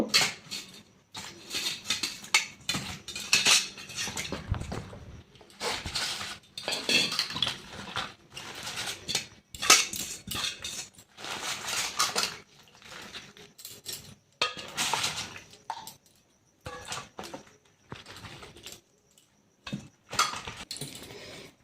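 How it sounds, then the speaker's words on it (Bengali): Cauliflower pieces washed in a bowl for gobi paratha, bursts of clattering and knocking of vegetables and utensil against the bowl with brief pauses, close by. "এবার এগুলো ভালো করে ধুয়ে নেব।"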